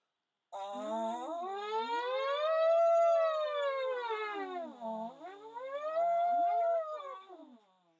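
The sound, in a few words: horn mouthpiece buzzing imitating a siren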